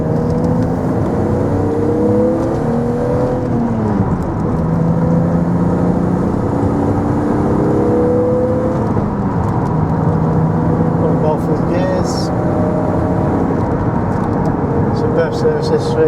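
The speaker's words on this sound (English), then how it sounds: "we'll just give you a buzz up the road in this lovely Z3M Coupe" A 2000 BMW Z3 M Coupe drives up a road, its engine droning and rising and falling through the gears as it pulls away, steady and fairly loud with wind and road noise throughout.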